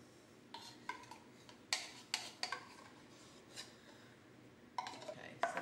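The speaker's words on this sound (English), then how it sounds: "So then you just stir and combine them all" Rum-soaked sultanas being stirred together with condensed milk in a bowl, a spoon giving faint scattered clinks and scrapes against the side at an irregular pace.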